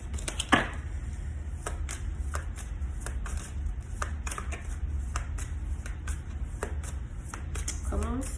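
Tarot cards are shuffled in rapid crisp riffles and slaps, close and fairly quiet, with a sharper snap near the start and a whirring riffle at the end.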